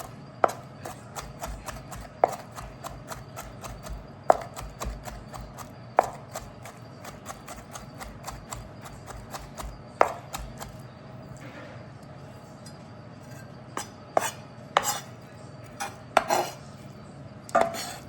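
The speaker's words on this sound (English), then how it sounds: "You can smash it up as well if you like, or mince it like how I'm doing it." A knife minces food on a chopping board for Vietnamese saan choy soup, giving sharp, close knocks in an uneven rhythm that grows busier near the end, with no talking.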